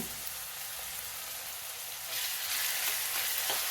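Ginger-garlic paste fries with sliced onions in hot oil, a steady hissing sizzle that swells louder partway through, with no talking.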